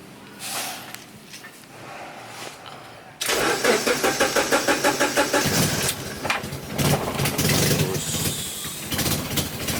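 A Honda Civic EF with a swapped K24 engine turns over and catches, then revs in rapid pulsing bursts, loud and close, settling into a rough rising roar.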